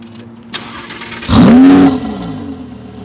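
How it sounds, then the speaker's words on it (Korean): An Audi R8 V10 Spyder engine barks once, then a loud, sharp high-revving exhaust blast rises and falls back to a low idle. "배기음을 좀 어, 들려드리도록 하겠습니다"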